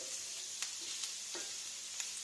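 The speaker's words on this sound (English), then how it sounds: "I will stir it. all together." Ginger sizzles in a frying pan, a steady close hiss of frying with light scrapes and taps from stirring every half second or so, no voices.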